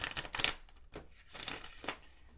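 A deck of tarot cards is shuffled by hand close to the microphone, giving quiet riffling and sliding bursts in a few uneven strokes over two and a half seconds.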